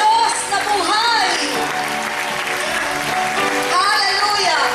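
A church congregation claps during a worship service, the applause dense and continuous while a voice speaks over it.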